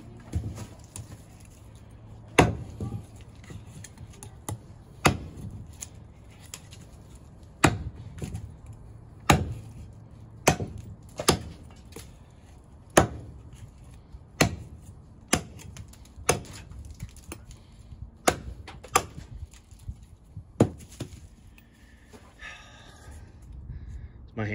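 A CUMA Battle Cleaver with a hollow-ground blade chops into wood, delivering a series of sharp, irregularly spaced thwacks, some in quick pairs, with muttered talk between strikes.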